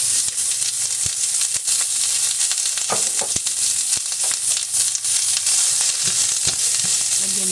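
Garlic and onion frying in olive oil in a pan, a loud continuous sizzle with scattered crackles and stirring clicks, close up, no talking.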